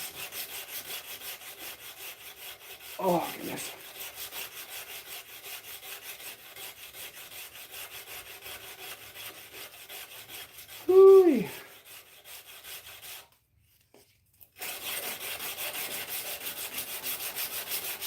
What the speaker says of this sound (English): This side is sanding a lot faster than the other sides have been.